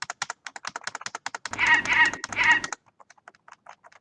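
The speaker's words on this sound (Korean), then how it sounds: "시작하면 이렇게 키보드로, 방향키로 그 비행기를 움직일 수 있고, 스페이스바를 누르면 총알이 발사돼요." Keys clack rapidly on a computer keyboard as arrow keys steer a plane and the space bar fires shots in a simple shooting game, with a burst of louder game sound effects partway through.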